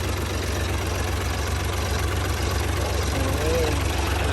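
A 2016 twelve-wheel dump truck's heavy diesel engine idles steadily with a low, rumbling throb and faint mechanical rattle, close by, with no other sounds standing out.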